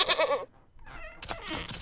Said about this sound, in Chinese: 哦，出现了一个山羊啊！